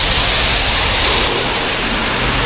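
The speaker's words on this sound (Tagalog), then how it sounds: "Lakas ng ulan." Heavy rain pours down steadily at a fishing spot at a resort in Ternate, Cavite, a dense, loud, unbroken hiss with no voices.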